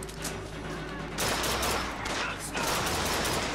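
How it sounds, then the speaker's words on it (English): Gunfire in the video game BioShock Infinite: sustained loud bursts of shooting that swell sharply around the middle and again near the end, dense and continuous with no clear pauses. "Can't go 2 seconds without shooting."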